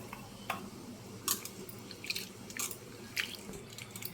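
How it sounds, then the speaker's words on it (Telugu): Prawns being washed by hand in a bowl of water, soft irregular splashes, drips and squelches a few times a second, close and quiet with no talk. "ఇలా రొయ్యలు అనేవి మనం నీట్గా కడుక్కోవాలండి"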